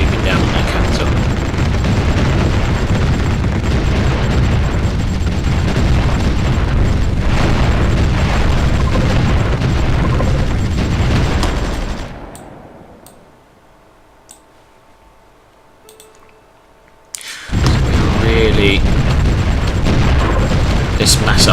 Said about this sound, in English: This mass artillery is going to do them some serious damage.